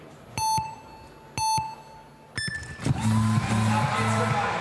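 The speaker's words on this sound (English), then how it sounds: "So we wait for the buzzers." Start buzzer beeps at a speed climbing race in the European Championship qualification in Munich: three clear electronic beeps spaced about a second apart, the third longer, followed by a surge of crowd and arena noise.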